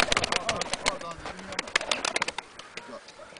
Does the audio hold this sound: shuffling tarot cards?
no